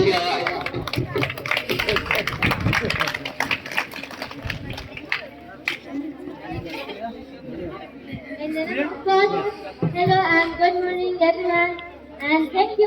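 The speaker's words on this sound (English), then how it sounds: "Please clap your hands and honor her." A school audience at an end-of-semester English course ceremony claps for a student speaker, a burst of dense hand claps mixed with crowd chatter that fades into a single voice talking.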